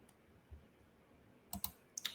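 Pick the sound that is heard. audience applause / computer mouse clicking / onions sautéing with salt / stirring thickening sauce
computer mouse clicking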